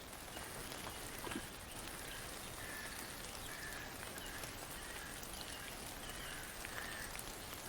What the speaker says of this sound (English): you guys lay down to the sound of the gentle drumming of rain on cloth like a metronome to your sleep